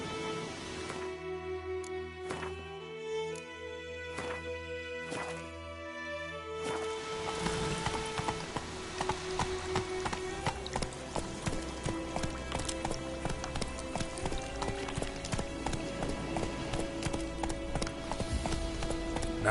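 Roach, a horse in The Witcher video game, clip-clops along, first in a sparse rhythm, then a quicker, denser run of hoofbeats under loud game music.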